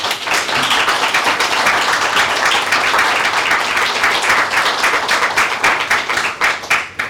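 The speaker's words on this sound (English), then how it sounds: "Let's have a round of applause for the speakers." An audience at an IP conference session in Dubai applauds steadily, dense clapping filling the room at a sustained loud level before starting to thin toward the end.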